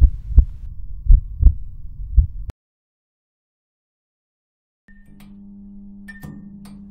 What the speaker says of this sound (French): On peut aussi y venir pour écouter les battements de cœur de nos proches ou d'autres personnes anonymes.